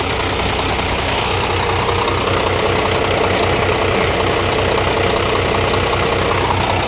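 A large 260-horsepower diesel truck engine idles steadily and loudly nearby, with a continuous rumbling clatter and no pauses.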